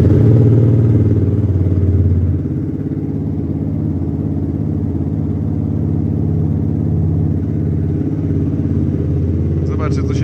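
A 2011 Yamaha YZF R125 motorcycle idles close by with a steady, loud, even burble from its small single-cylinder engine, briefly louder at the start, then settling.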